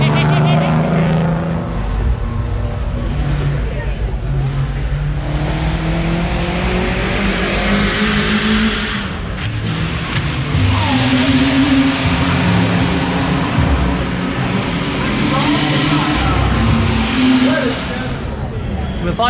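Vintage racing cars rev and race at the Goodwood Revival, a loud, continuous engine roar with rising and falling pitch as cars pass close by, with crowd voices and talk mixed underneath.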